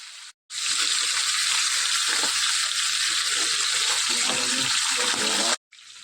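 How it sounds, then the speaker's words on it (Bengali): Fish heads slid slowly into a wok of smoking-hot oil set off a loud, steady sizzle that holds for several seconds, bracketed by brief quiet gaps. "তো এবার আস্তে আস্তে করে মাছের মাথাগুলো ছেড়ে দিচ্ছি"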